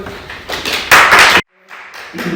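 Brief burst of applause from a small group for guests on a podcast recorded in Berlin, close and fairly loud, swelling then cutting off abruptly before resuming faintly.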